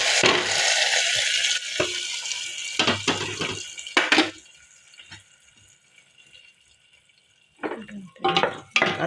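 A spoon stirs a hot tempering into a fenugreek leaf and moong dal curry in a pan, wet scraping and sizzling bursts at first, then a quieter stretch before brief stirring noises return.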